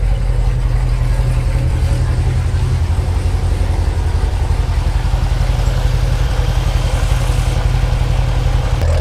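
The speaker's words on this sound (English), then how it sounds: "So we'll let the car idle and burn that off for a little bit here." A car with newly installed exhaust headers idles steadily, a loud, rhythmic low engine burble with fine mechanical clatter, running alone without speech.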